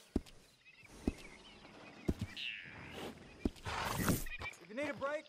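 Horse in a video game, with soft hoof clip-clops, a snort and a brief whinny-like burst among quiet game sounds, while a character's voice speaks briefly.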